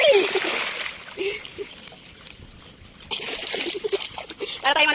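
Labrador dogs splashing and churning water while swimming, loud irregular splashes close by, with voices speaking in between.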